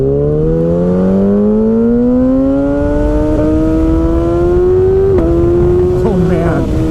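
A 2019 Kawasaki Ninja ZX-6R with a full M4 GP exhaust revs loudly and climbs steadily in pitch, then snaps through a quick upshift near the end and keeps pulling, heard up close while riding.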